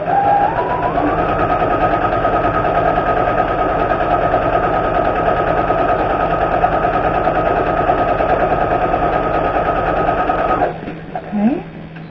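Sewing machine stitching a lined zipper pouch, a steady loud motor whir running continuously for about ten seconds before stopping, followed by brief handling noises.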